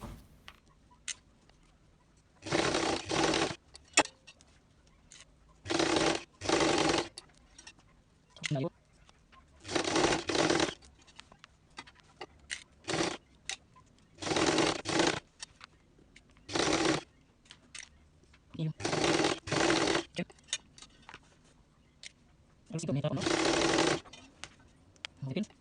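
A sewing machine hems the bottom edge of a top, running in repeated bursts of a few seconds each with short pauses between, fairly close and steady, with a faint background hum.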